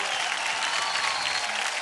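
Studio audience of a Hindi TV talent show claps for five celebrity contestants, a brief, even burst of dense applause at moderate level with no voices over it.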